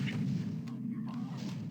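Rapid, continuous chain gun fire in a Doom map plays as a dense, steady stream of booming shots throughout, loud and without pause.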